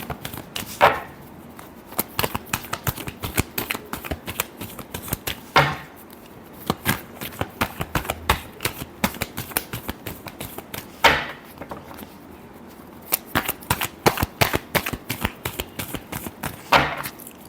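Tarot cards shuffled by hand, a fast, dense patter of crisp riffling clicks with periodic louder snaps as the deck is bridged, fairly close and continuous, no talk.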